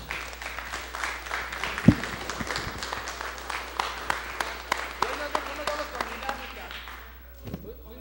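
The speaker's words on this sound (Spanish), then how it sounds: "vamos a darnos un fuerte aplauso" A group at a community workshop on social prevention claps with scattered, uneven hand claps over a low hum, with voices talking underneath, and the clapping fades out near the end.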